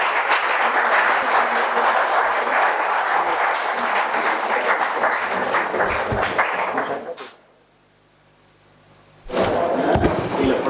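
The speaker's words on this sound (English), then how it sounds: "A big round of applause, everyone." Sustained audience applause at a college fest inauguration ceremony, dense clapping filling the hall for about seven seconds, then dropping to near silence before another loud burst of clapping returns at the end.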